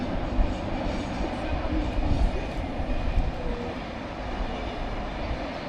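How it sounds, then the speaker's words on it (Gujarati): A train crosses a bridge in Luxembourg, heard from a distance as a continuous low rumble with steady rolling noise across the whole span. "જો પેલા બ્રિજ પરથી ચાલી પેલી ટ્રેન"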